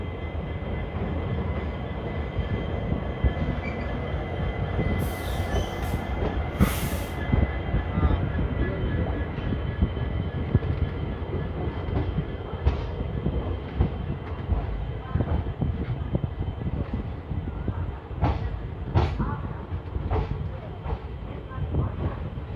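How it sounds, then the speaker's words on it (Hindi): A WDP-4G diesel locomotive on the Delhi to Jodhpur express fills the air with a loud, steady rail rumble, broken by a few short, high squeals and hisses and some faint background voices. "तो सामने खड़ा है दोस्तों WDP-4G डीजल लोकोमोटिव।"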